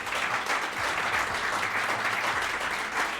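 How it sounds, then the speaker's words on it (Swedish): Warm audience applause at a Swedish coffee championship, steady and sustained clapping from a crowd filling the whole moment without a break. "Varm applåd!"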